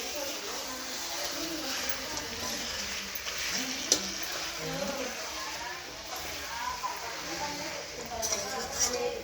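Chicken being stirred and frying in a pan, a steady soft sizzle with scraping stir strokes and occasional light clinks, fairly quiet, with a person talking over it.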